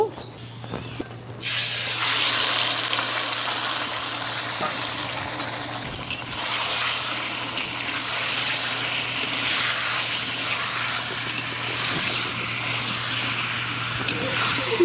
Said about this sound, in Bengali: কড়াই গরম হয়ে গেছে তেল দিয়ে দিচ্ছি দিয়ে দিচ্ছি তেজপাতা গোটা গরম মশলা ম্যারিনেট করা চিকেনগুলো দিয়ে দিচ্ছি